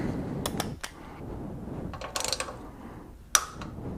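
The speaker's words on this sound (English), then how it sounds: "Got that torqued down to 10 foot-pounds." Torque wrench tightening T45 Torx bolts on an Akrapovic GP slip-on exhaust of a 2016 Yamaha R1: scattered ratcheting clicks and metallic rattles in a quiet garage, ending in one sharp click.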